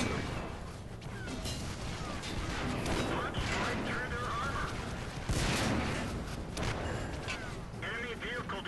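Tank cannon fire and explosions from the World of Tanks video game, with sharp blasts and bursts over busy game noise and a voice talking throughout.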